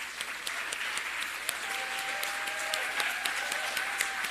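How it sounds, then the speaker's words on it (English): Steady audience applause fills a session on placemaking at a city-building conference, dense and sustained throughout, with a faint whistle-like tone and a quiet voice briefly under it. "TJ McGuire, I just wanted to give them a round of applause because a lot of this work is volunteer work"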